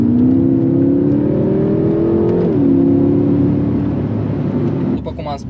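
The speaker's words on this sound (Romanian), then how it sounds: "Mie mi se pare că mașina schimbă foarte, foarte rapid." A 750 hp BMW M6 with a seven-speed dual-clutch gearbox accelerates hard, its loud, steady engine note climbing, dropping with a quick upshift midway, then rising again before easing off at the end.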